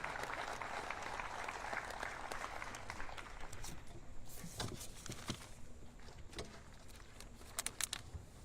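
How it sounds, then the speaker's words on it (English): Applause from a crowd at an outdoor groundbreaking ceremony for a ballpark, a steady patter of clapping heard from some distance. It thins toward the end into a few scattered claps. "one more round of applause for our five speakers here today"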